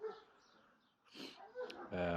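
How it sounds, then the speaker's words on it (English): A neighbour's dog barks outdoors at a distance, faint yips and barks coming and going beneath someone talking close to the microphone. "That bastard dog barks all fucking day."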